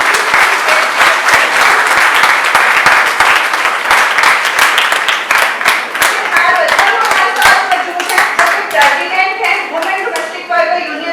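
Dense, steady applause from an audience at a 2025 May Day rally for domestic workers' social security, welcoming a speaker to the stage. Many hands clap loudly and continuously for about eleven seconds with no talk over it.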